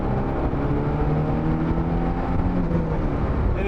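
A 1991 Alfa Romeo Spider small car's engine hums smoothly and steadily while driving, a continuous even drone heard clearly with no talking.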